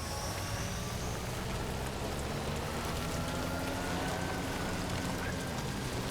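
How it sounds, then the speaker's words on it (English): Steady timefall rain in Death Stranding 2 pours down in an even, continuous hiss with no breaks, moderately quiet and heard alone. "Of course there'd be fucking timefall."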